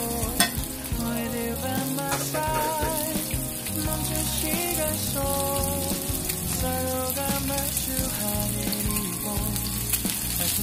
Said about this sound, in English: We wanna have a nice sear on the tuna.